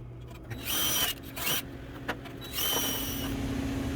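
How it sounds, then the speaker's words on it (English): Power drill boring holes in a cracked classic car steel fender before MIG welding: several short whirring bursts of varying length separated by pauses, loud and close, with no talking. "There's the holes drilled."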